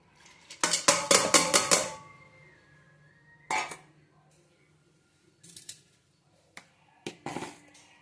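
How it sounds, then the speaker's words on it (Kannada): Dry lentils are poured into a cooking pot in a village-style kitchen, giving a rapid burst of rattling clatter that is followed by scattered, fainter metallic clinks and taps. "ನೋಡಿ, ಬೇಳೆ ಹಾಕ್ತಾ ಇದ್ದೀನಿ."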